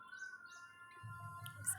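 Birds chirp outdoors in short, faint high calls, a few scattered tweets over steady background hum, with a soft low rumble entering partway through.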